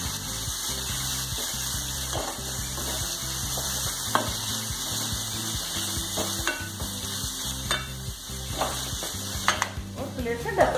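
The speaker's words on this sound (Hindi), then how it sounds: "नमक, हल्दी और गरम मसाला और इन्हें मिक्स कर लेंगे।" Cucumber sabzi sizzles steadily in a pan as salt, turmeric and garam masala are stirred in, a close continuous fry with occasional scrapes and clinks of the spoon, and no speech.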